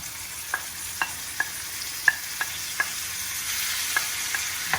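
Tomatoes and basil go into a hot pan of onions and are stirred, giving an even sizzle under a series of crisp, regularly spaced spatula taps against the pan, close up with no talking.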